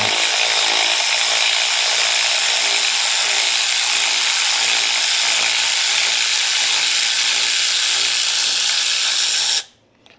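A ratchet wrench loosening rocker arm bolts on a Harley Twin Cam engine gives a fast, steady, loud clicking that runs close up for nearly ten seconds and then stops abruptly.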